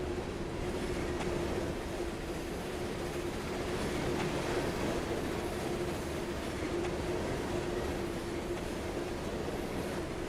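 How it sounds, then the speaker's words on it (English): A coal train runs in the Trainz Railroad Simulator 2019 game, producing a steady, continuous rumble with a faint hum and no clear change in loudness throughout. "I wonder where that coal train is"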